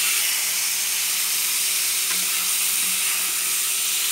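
Jackfruit masala frying over a medium flame in a pan, a steady close sizzle and hiss running throughout, with a faint scrape or two of stirring partway through.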